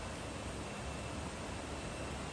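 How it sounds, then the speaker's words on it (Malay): Steady, broadband rushing of flowing water near chalets at Kalumpang Resort, constant and fairly loud throughout with no breaks or voices. "Dengar dah tu bunyi air ya."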